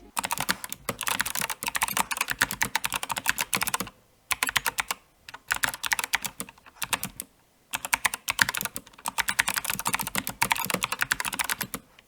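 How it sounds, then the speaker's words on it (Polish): Fast, loud clicky typing on an MSI Vigor GK71 Sonic keyboard with blue clicky mechanical switches, dense bursts of sharp keystrokes separated by short pauses, close and alone. "MSI Sonic Blue dokładnie się nazywa, tak go sobie nazwali, ale są to Kyle tak naprawdę niebieski, czyli klikliwy przełącznik i posłuchajcie sobie od razu jak brzmi"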